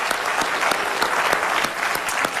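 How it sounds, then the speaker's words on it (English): Dense, continuous applause from an audience at a formal event honouring a speaker, steady and full for the whole stretch with no talk over it. "Let's give her a round of applause, Ms. Negroponte."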